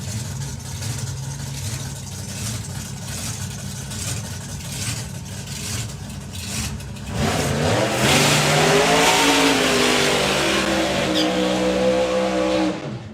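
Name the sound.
two supercharged small-block drag cars doing side-by-side burnouts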